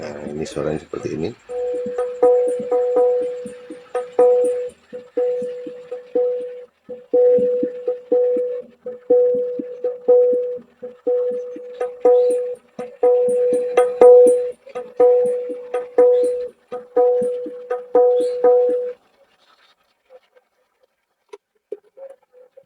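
Repaired SIMBADA active speakers with an added Bluetooth module play audio streamed from YouTube. A thin, repeating tonal pulse sounds in a steady beat for about twenty seconds, fairly quiet and roomy, then cuts out.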